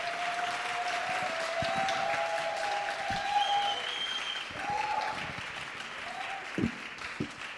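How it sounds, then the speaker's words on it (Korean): An audience at a church college semester-opening revival service claps to welcome a guest pastor, a sustained, even applause lasting several seconds, with no one speaking over it. "우리 강사님 사랑과 축복의 박수로 모시도록 하겠습니다"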